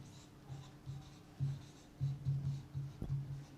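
Handwriting in short strokes, a series of close scratchy pen or marker sounds in irregular bursts with brief pauses between them.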